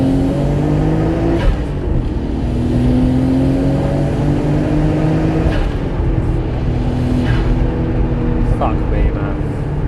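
A Nissan Skyline R32 GTR engine drones loud and steady while driving, its tone rising and falling through gear changes, with a voice talking faintly over the cabin roar.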